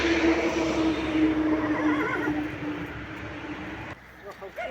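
A mare neighs loudly and close by, a drawn-out whinny with wavering pitch, over outdoor background noise, then trails off into quieter shuffling sounds.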